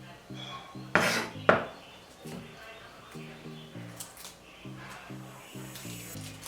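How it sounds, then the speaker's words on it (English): Garlic minced with a knife, two sharp knocks on a board followed by soft scraping and light tapping under quiet background music. "Now I'm just mincing up some garlic."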